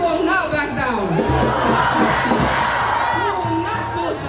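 A crowd at an outdoor New York City rally shouts and cheers back in loud unison, voices overlapping in a dense, sustained roar with a speaker's amplified voice threaded through it.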